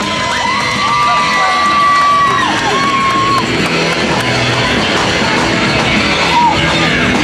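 A wrestling crowd in Cape Girardeau cheers and yells continuously, loud and close, with shrill whoops and children's shouts rising above the roar throughout.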